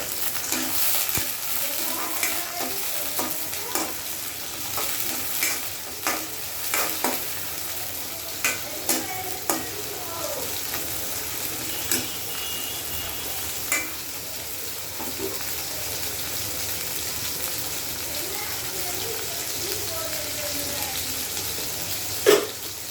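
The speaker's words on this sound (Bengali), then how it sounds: "পেঁয়াজগুলো দিয়ে এটা হালকা করে ভেজে নেব।" Onions sizzle in hot oil in a pan at the start of a tengra fish and ridge gourd curry, a steady close fry broken by sharp clinks and scrapes of a spatula.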